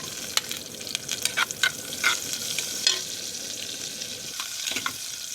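Onion and garlic frying in cooking oil in a small home pan, a steady close sizzle with scattered sharp pops and spatula clicks, no talking.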